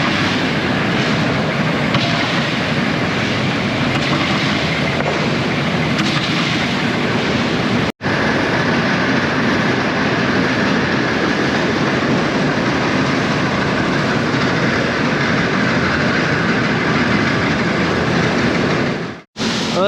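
Loud, continuous mechanical roar of a grain auger emptying a bin of white corn, running steadily with two brief dropouts and no talk.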